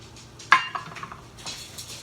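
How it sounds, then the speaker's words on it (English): A cup of Arborio rice is added to a pan of softened vegetables for asparagus mushroom risotto. It makes a sharp metallic clink followed by a short patter and rustle of grains settling. "Now we put our cup of Arborio rice in there."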